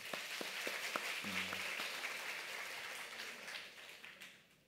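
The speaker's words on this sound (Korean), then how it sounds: "다 함께 박수로 영광 돌리겠습니다" Church congregation applauding together during a Sunday evening thanksgiving service, a steady broad wash of clapping that holds for several seconds and then fades out.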